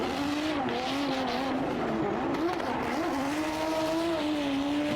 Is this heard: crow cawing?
no